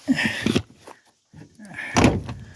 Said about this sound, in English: That door didn't shut all the way.